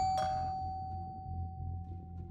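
A house doorbell after dark gives a single electronic chime, a clear bright strike followed by a long steady sustained tone that hangs over a low background hum.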